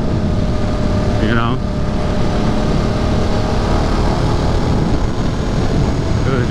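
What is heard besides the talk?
motorcycle engine riding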